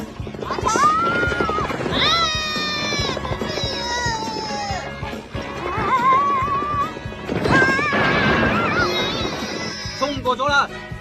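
A racing horse in an animated cartoon gallops and neighs, with repeated loud whinnies over clip-clop hoofbeats and crashing, while excited voices talk and shout throughout.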